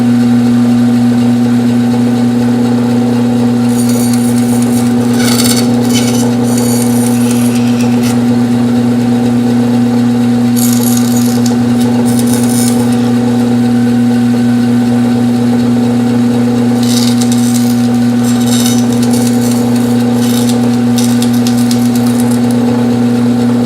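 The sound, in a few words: bandsaw cutting slots in wood for a surfboard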